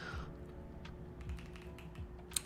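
Clicky computer keyboard typing during game engine coding work, irregular bursts of close keystrokes with brief pauses and a sharper tap at the end, no talking.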